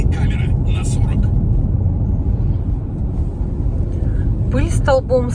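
A car driving and overtaking on a road, heard from inside as a steady low engine and road rumble, with bits of talk at the start and near the end.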